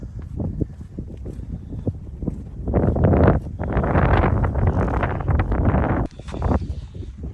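Gusty wind batters the microphone in loud, uneven surges that swell and fade, growing strongest midway through.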